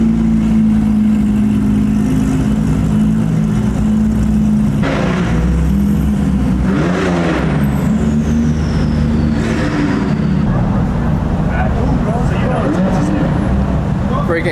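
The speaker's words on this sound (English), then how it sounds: "We got more cars rolling in." Car engines rumble and rev as vehicles roll into a supercar meet nearby, with voices and crowd chatter mixed in throughout.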